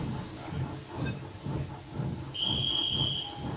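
Cartoon steam engine Edward puffs slowly as he sets off, giving a rhythmic chuffing of steam bursts, with a whistle-like tone joining partway through.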